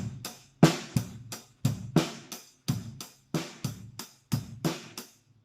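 A drum kit plays a steady rock groove, punchy kick drum hits paired with snare and cymbal strikes repeating in a tight, even rhythm, up close with no talking.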